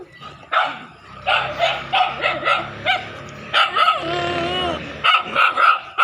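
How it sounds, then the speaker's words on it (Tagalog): Several neighbours' dogs bark in bursts, with yips and a drawn-out howling whine in the middle, fairly close and loud against light background noise. "Ito yung mga aso ng kapitbahay namin."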